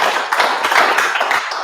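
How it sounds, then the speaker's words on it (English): An audience applauds a panel at an AI business event in Australia: a short burst of dense clapping from many hands, moderately loud and steady, then tapering slightly. "you can give a round of applause"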